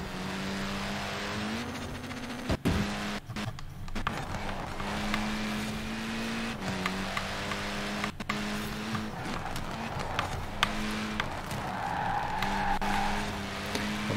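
A 1300hp Ford M-Sport rally car on rally tyres in Forza Horizon 4 roars continuously at high revs, with gear-change drops in pitch, brief tyre skids and squeals, loud and close throughout.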